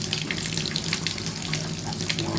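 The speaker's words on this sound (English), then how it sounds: "What I like to do, run the water." Tap water runs steadily into a bathroom sink drain during drain unclogging, a continuous close hiss and splash with no voices.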